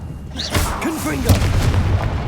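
Confringo blasting-spell explosions in Hogwarts Legacy, two sharp booming bursts about a second apart, close and loud, with a voice talking over and between them.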